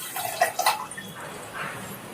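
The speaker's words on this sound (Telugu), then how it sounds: "ఇప్పుడైతే వాటర్ పోస్తున్నారు పిల్లలు." Children pour water into sugar for gulab jamun syrup, giving a short close splashing trickle with a couple of louder gushes before it settles into faint dribbling.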